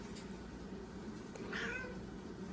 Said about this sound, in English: Come on, Kitty. Get into the shot.